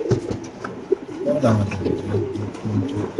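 Female pigeons of reach checker, super milly and white varieties coo from market cages in low, repeated rolling calls, with some overlapping coos and a little background voice nearby.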